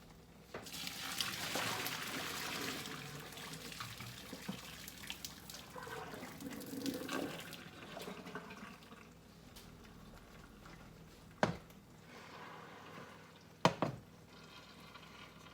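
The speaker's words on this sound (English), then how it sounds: "Now I'm going to take this over there and drain the water off my noodles." Hot water poured off boiled pasta noodles into a sink splashes and gushes for several seconds, then thins to trickles and a few sharp clanks of the pot, fairly quiet and with no talk.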